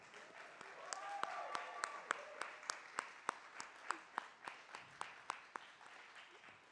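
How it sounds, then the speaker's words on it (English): A live audience at an arts summit session applauds with steady, fairly sparse clapping, individual claps rising clearly above a roomy crowd wash, moderately distant and continuing throughout. "everyone, please, a round of applause for the Reverend Black Benatar."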